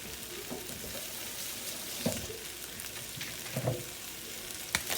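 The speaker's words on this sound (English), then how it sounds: "We're going to drop the butter in right now" Butter sizzles steadily in a hot pan for shrimp and chicken fried rice, a constant close hiss broken by a few soft stirring knocks, with no talking.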